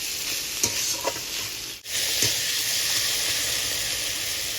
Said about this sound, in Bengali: এটা খুব ভালো করে ভেজে নেব